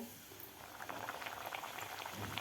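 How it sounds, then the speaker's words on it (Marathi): Hot oil sizzles and bubbles steadily as sweet coconut puri dough fries, a soft crackling hiss heard up close. "दुसरीसुद्धा आपण यामध्ये पुरी सोडून घेऊया"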